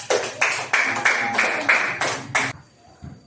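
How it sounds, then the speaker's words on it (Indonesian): A class gives a short burst of applause for a student group during a school teaching session, several separate clapping bursts in quick succession before stopping, with faint talk afterward. "Kasih tepuk tangan dulu buat kelompok 3"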